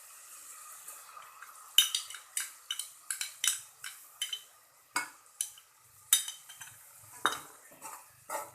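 Spoon stirring yogurt and fried spices in a pan for aloo matar, a series of distinct scraping and clinking strokes in irregular rhythm over a faint background sizzle, close and fairly quiet, with no talking.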